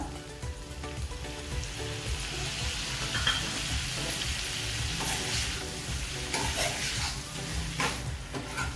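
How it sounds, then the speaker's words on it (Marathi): Chicken liver sautéing in a pan with coriander and lemon juice, a steady close sizzle broken by scraping stirs, with no talk. "आता ही आपण दोन मिनटं परतवून घेऊया"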